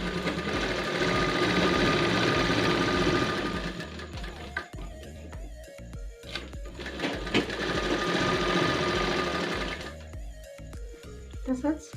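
Sewing machine stitching lining onto the front and lower edge of a baby cap, two bursts of rapid, even motor whirring separated by pauses with small clicks and handling noises, close up; someone speaks between runs.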